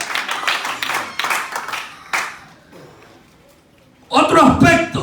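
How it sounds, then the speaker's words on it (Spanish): Church congregation clapping in worship, several sharp bursts of hands mixed with a voice speaking over them, a brief quiet lull, then a dense, loud flurry of clapping and crowd noise at the end. "Dele palmas al Rey"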